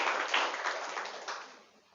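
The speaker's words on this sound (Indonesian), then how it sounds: "Beri tepuk tangan buat Dia." A church congregation gives a short round of applause at an Easter morning service, a soft, fairly even patter of many hands that fades out over about two seconds.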